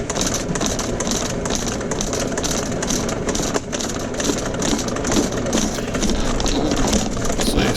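A drain snake machine running continuously while clearing a badly clogged sewer line, with a loud, steady motor drone and a rhythmic mechanical churn and rattle, close by with no talking.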